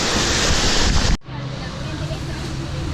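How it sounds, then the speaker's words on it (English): Artificial waves in a wave pool at the Volcano Bay water park in Orlando make a loud, steady washing roar that breaks off abruptly partway through, then carries on as a softer rushing wash with a low rumble. "The waves have started."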